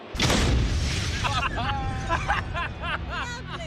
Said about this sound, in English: That's a good explosion right there.